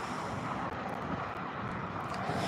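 An Alaska Airlines Boeing 737 MAX 9 arriving at LAX from SFO gives a steady, loud broadband jet roar that stays constant throughout.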